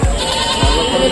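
A male goat at a livestock market, a loud close bleat or two in quick succession over a bright, busy market background.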